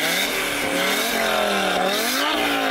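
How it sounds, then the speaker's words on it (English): Tuned Audi RS3 with a remapped ECU and no soft limiter, its engine revved repeatedly in rising and falling sweeps, loud, close and raspy, without talk. "So I'm going to rev up this RS3."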